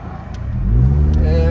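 Cars speed along a boulevard in snowy Big Bear, California, heard from a vehicle pulling out, a rising engine rumble swelling loud and close with passing traffic.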